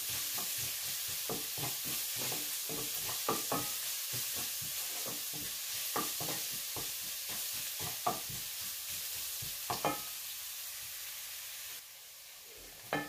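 Masala frying in a pan for Kerala mackerel fish curry, stirred with a steady run of quick utensil scrapes and taps over a constant sizzling hiss, which thins out near the end.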